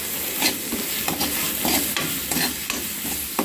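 Potato samosa filling with salt and red chilli powder being stirred and fried in a pan: a steady sizzle under repeated scraping spoon strokes, close and fairly loud, with no voices.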